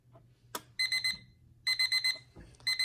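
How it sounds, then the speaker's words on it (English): A mechanical alarm clock bell rings in rapid repeated bursts, pausing briefly between bursts, over a low steady hum and a couple of clicks. "Let's see if the alarm is also working."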